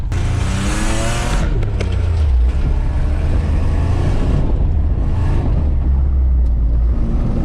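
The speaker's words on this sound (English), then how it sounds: "Started to do a burnout." A Nissan 5-speed pickup with small tires doing a burnout in a driveway, its engine revving loudly and continuously up close with rising and falling pitch and a hiss of spinning tires.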